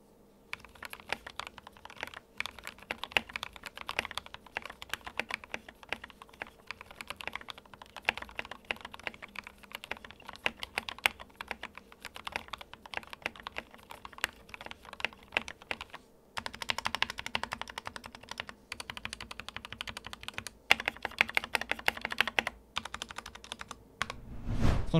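A custom-built keyboard is typed on in a dense, continuous patter of close keystroke clicks, with a slightly heavier, busier burst toward the end and no talking.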